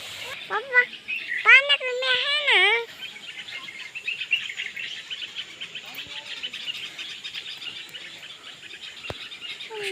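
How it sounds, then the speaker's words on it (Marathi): Birds chirp and twitter faintly over a steady high trill, with a brief warbling voice-like call near the start. "खूप सारे पक्षी या ठिकाणी आहेत पक्ष्यांचा किलकिलाट आवाज या ठिकाणी येतो"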